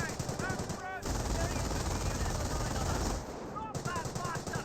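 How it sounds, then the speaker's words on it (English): A German MG42 machine gun in the World War II strategy game Company of Heroes fires a long, dense, rattling burst for about two seconds, with shorter chattering bursts and battle noise around it. "MG42 getting some damage there onto the Bren carrier now. Getting some good bursts there."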